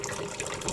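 Water is poured to fill a container in a classroom lesson, a brief steady gushing, splashing trickle heard up close and alone.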